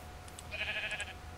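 A single short, faint Minecraft sheep bleat sounds over a quiet background hum.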